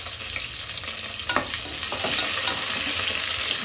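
Vegetables and green chillies frying in a pan over a medium flame, a dense close sizzle with light stirring scrapes and ticks throughout, no talking.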